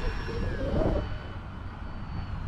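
A continuous electric-motor whine and rumble from an E-Flite T-28 Trojan RC airplane hums throughout, with a short burst of speech-like sound early on.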